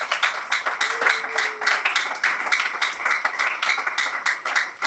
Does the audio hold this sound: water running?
no